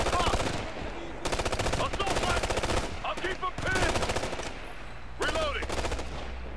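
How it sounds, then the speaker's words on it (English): Sustained light machine gun fire in Ghost Recon Future Soldier, with rapid bursts of automatic shots recurring in stretches across the clip, loud and close, mixed with game noise and faint voices. "Is that an LMG shooting at us?"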